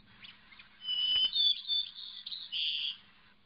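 A single clear whistled song of a white-crowned sparrow, leucophrys subspecies, an opening pure whistle followed by buzzy trilled notes, heard alone over a quiet background.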